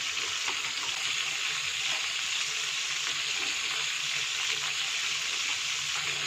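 Fish cakes wrapped in lolot leaves fry in hot oil with a steady, even sizzle that holds at a moderate level throughout, with no talk.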